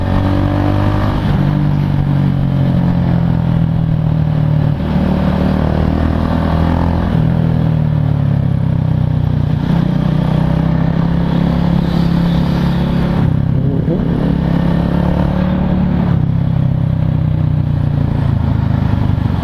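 A Titan 250 motorcycle engine drones steadily while riding, with shifting pitch as the rider accelerates and eases off, loud and close throughout.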